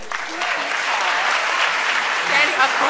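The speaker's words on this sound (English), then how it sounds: "So please give them a round of applause." Steady applause from a conference audience as morning speakers are welcomed to the stage, a full wash of clapping hands that stays even throughout, with faint crowd murmur underneath.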